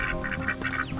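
Ducks on a homestead quack in quick, repeated nasal calls, several overlapping bursts close by over a low farmyard background.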